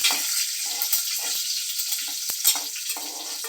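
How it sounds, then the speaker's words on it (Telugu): Curry leaves hit hot oil with a loud, close, crackling sizzle that spits and pops in irregular bursts, a constant frying hiss underneath and a couple of sharp clicks from a utensil, no voices. "నెక్స్ట్ నేను కరివేపాకు వేసుకున్నాను దాన్ని కూడా ఇలా వేసుకోవాలి"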